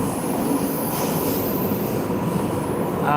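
An old Moscow subway train rumbles loudly and continuously, with a harsh metallic roar and high wheel squeal throughout.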